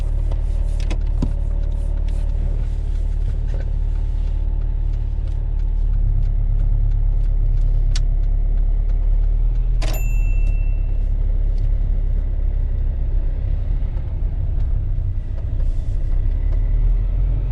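A car drives along a UK road during a mock driving test, giving a steady low engine and road rumble from inside the cabin, with a few faint clicks and small knocks scattered through and no talking.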